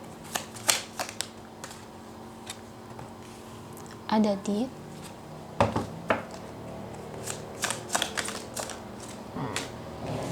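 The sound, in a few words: shuffling tarot cards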